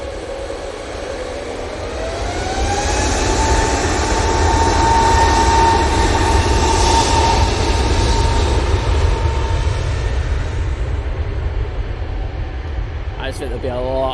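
Jet2 aircraft taking off at Manchester Airport, a loud sustained engine roar that builds and holds, with a rising whine on top, heard from a spotting position.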